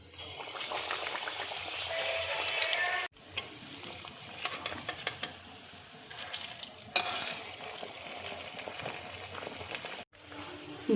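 Battered aloo burger patty dropped into hot oil, giving a steady bubbling sizzle that rises and falls over several seconds, with a few abrupt breaks and occasional clatter.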